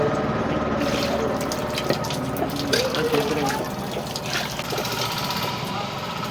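Water runs steadily from a tap while chicken is cleaned at a chicken shop in Anna Nagar, a constant splashing gush close by with faint background voices and clatter.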